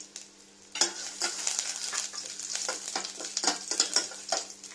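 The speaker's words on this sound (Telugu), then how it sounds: "నెయ్యి బాగా వేడిన తర్వాత దీంట్లోనే అల్లం ముక్కలు కొద్దిగా జీలకర్ర" Ginger pieces and cumin seeds crackling in hot ghee, a soft sizzle with sharp pops and spoon scrapes, close and fairly quiet under a faint steady hum.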